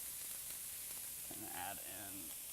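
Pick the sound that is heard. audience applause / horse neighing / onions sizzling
onions sizzling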